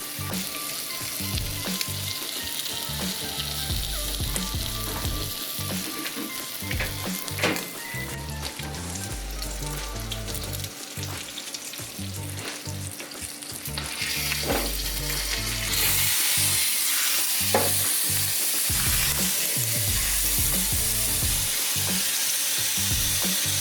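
A tomahawk steak sizzles loudly in a pan on the stove, a dense, steady crackle and hiss that swells louder partway through, with no talking.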